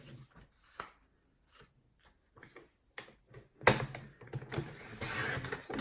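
Scissors or a blade cut through card stock along a marked line for a fun-fold card, giving a run of quiet intermittent snips and taps and then a louder, denser stretch of cutting and handling near the end.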